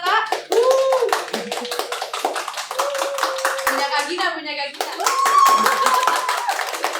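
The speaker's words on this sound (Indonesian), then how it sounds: "Kita votingnya pakai tepuk tangan aja." A small group claps in a lively burst to vote, the clapping running continuously under excited talk and a voice.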